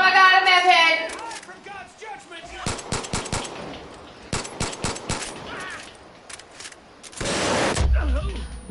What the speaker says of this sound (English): What the fuck did he shoot me with? You shot me! He shot me!